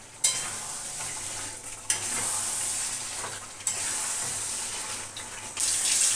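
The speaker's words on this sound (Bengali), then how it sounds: "এই যে মশলাটা কষছে।" Spice paste sizzles loudly in a pan, with bursts of frying hiss rising and falling as it is stirred and a few sharp scraping knocks, close and continuous with no talking.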